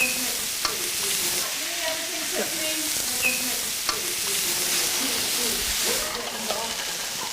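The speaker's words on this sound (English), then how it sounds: "I'm stir frying the vegetables to cook them halfway" Vegetables sizzle and hiss in a hot pan while being stirred, with occasional scrapes and clinks of a utensil against the metal.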